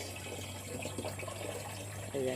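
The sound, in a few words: water flowing from the water source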